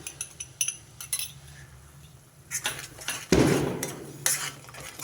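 A spoon scrapes and clinks against a pan while capsicum masala curry, with curd just added, is stirred to keep it from sticking; scattered metallic taps build to a louder, denser scraping burst near the end, with no talking.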